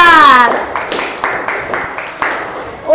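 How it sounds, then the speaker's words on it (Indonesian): Students in a classroom clapping for a presenting group, a short round of claps that fades after a spoken voice at the start, with a voice returning at the end. "kita beri tepuk tangan untuk kelompok"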